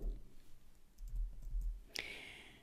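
A keyboard shortcut is pressed on a computer keyboard: a few soft, close clicks over quiet room tone, then one sharp, brighter click near the end.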